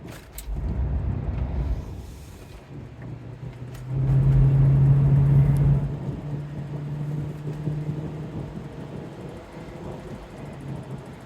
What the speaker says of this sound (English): I'm now accelerating. I'm up to 50 miles an hour.